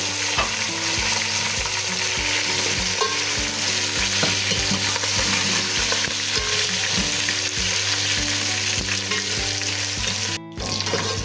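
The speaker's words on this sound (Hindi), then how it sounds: "ये इसके अंदर गोश्त जाएगा और इसको भी इसके साथ ही फ्राई कर लेंगे" Beef stir-fried with masala in a pot for yakhni pulao, a loud continuous sizzle with steady rhythmic scraping of a spoon, close up, cutting out briefly near the end.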